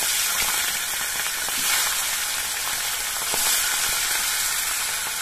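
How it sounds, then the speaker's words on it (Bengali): Fish frying in hot mustard oil in a wok, a steady loud crackling sizzle with scattered pops running throughout, no voices. "এবার মাছগুলো আমি ভেজে নিচ্ছি।"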